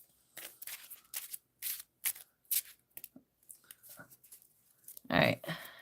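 A Magic card deck being shuffled during a casual Vintage game, with crisp riffling bursts at the end after a run of quiet paper snaps and handling sounds mixed with soft talk.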